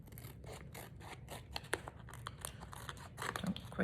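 Scissors snip material shorter while a handmade journal is being sewn, giving a short run of crisp, close cuts with light rustling and no talk.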